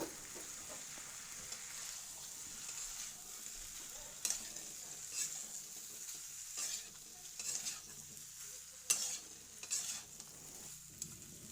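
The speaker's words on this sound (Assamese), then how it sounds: "এতিয়া মই কাটি লোৱা আলু এটা দি ভালকৈ মিক্স কৰি ল'ম" Local chicken curry with added cut potato being stirred in a pan, a soft steady sizzle with faint scraping strokes of the spoon at irregular intervals.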